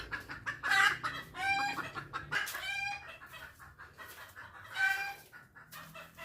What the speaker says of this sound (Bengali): এত চিল্লায় মুরগি।